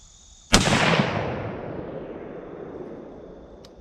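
A single loud rifle shot at a shooting range, a sharp close crack with a long rumbling echo that fades over several seconds.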